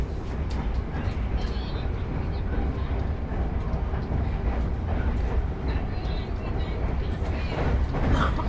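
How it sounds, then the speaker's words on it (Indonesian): Tawang Jaya economy passenger train running on rails at about 115 km/h, heard from inside the carriage as a steady, loud, broadband rumble and rattle of wheels and car body throughout, with no clear talk over it. "Kereta api Tawang Jaya sekarang melaju di angka kecepatan 115"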